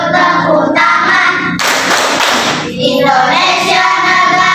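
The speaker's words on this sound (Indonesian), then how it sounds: "Jika kamu senang yuk tepuk tangan." A burst of hand clapping, about a second long, breaks into an Indonesian children's song from a teaching practice lesson. The sung melody carries on loudly before and after the claps.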